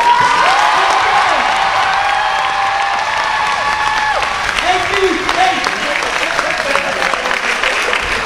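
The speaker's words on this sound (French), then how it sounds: "faites un dernier applaudissement, motivez-les s'il vous plaît." An audience at a breakdance battle claps and cheers loudly, with whoops and shouts over continuous applause and voices calling out through the crowd noise.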